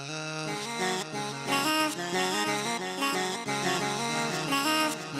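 A processed vocal line with echoing repeats and a reverberant wash, sustained and fairly loud over harmonic backing.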